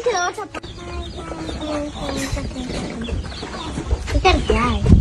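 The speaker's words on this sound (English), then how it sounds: "Now we first going to see all the chickens." Several chickens cluck and squawk close by in a busy, overlapping chorus, with voices talking underneath.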